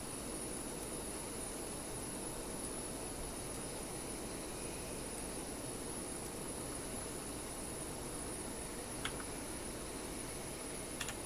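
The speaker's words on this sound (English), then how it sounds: "So perhaps I will start the engines." Boeing 737 jet engines spool up in the X-Plane 11 flight simulator, making a steady, even roar and whine that holds throughout with a faint high tone on top.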